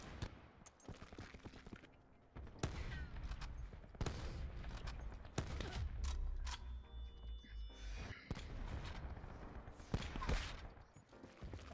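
Video game gunfire from three or four shooters, rapid overlapping bursts and single cracks coming in irregular waves, loud and close, with a player's voice intermittently underneath.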